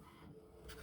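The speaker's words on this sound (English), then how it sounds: "You can hear the printer in the background." Printer running in the background of a home craft room while journal cover pages print, a steady mechanical whir with a louder carriage burst near the end, no talk.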